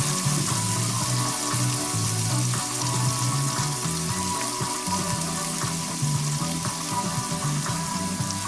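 Mung bean sprouts sizzle steadily in a hot skillet for an instant seafood vermicelli, a loud, continuous frying hiss with faint crackles and no talking.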